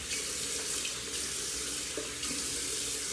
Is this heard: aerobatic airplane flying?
no